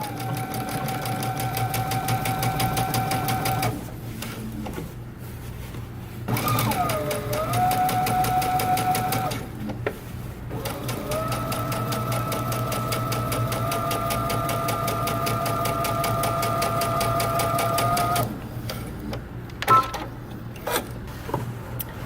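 A sewing machine understitches along the edge of a pocket lining on jeans, running in steady whirring bursts with a few short pauses between runs, close up and with no voices.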